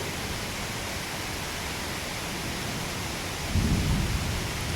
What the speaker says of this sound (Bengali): আকাশে মেঘ ডাকছে